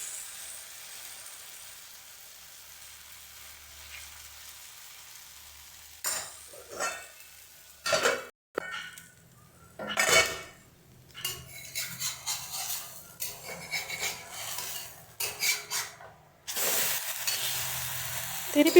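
Wheat flour breakfast frying in groundnut oil on low flame, with a pan flip partway through: faint steady sizzle, then clattering spatula and pan scrapes and stirring knocks in irregular bursts, near and moderately loud.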